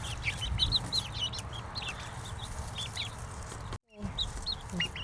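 Chickens cluck and chirp in their run, a busy flock of repeated short calls over steady low rumble, cut by a brief silent gap before the clucking resumes.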